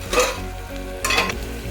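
Frying in a pan while a leg curry (trotters) is cooked, a steady broadband sizzle with two brief scraping stirs, close and moderately loud, no talking.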